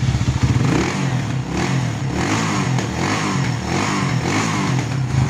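Motorstar motorcycle converted to a 175cc five-speed engine, revving close by in a steady, loud, rough drone with slight swells, and no voices over it.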